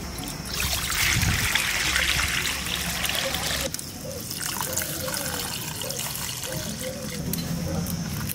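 Running tap water pours and trickles into a vessel while red masoor lentils are rinsed in a Bengali kitchen, a steady splashing stream with a short break partway through and a voice talking over it.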